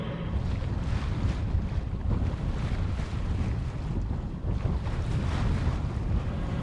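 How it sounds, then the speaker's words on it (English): A sailboat under way among rocky islands and islets, with steady wind buffeting the microphone and waves rushing along the hull in a continuous close roar, no voices. "We're coming into our anchorage now, and it's like a big maze of just islands and islets, rocks."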